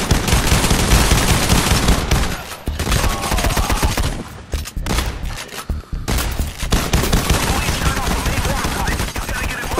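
Loud, dense bursts of shotgun fire in the heist shooter Payday The Heist, sharp blasts overlapping in a heavy volley with a short lull near the middle before the firing picks up again; no voices are heard.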